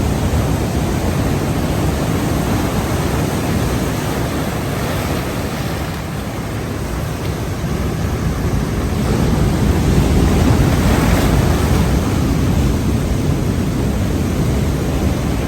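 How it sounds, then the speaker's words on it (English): Continuous rushing water with a broad, steady roar, loud and unbroken throughout, with no voices. "Like Disneyland waterfalls"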